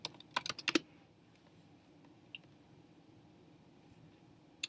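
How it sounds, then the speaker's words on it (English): A short quick burst of typing on a computer keyboard, about half a dozen close clicks at the start, then a quiet room with one lone key tap later. "Let's see what we can find if we type in Boyle"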